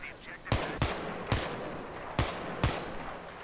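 Five sharp gunshots ring out as warning fire in the video game Battlefield 3 multiplayer. The shots are loud and close, spaced irregularly over a few seconds against a faint background hum.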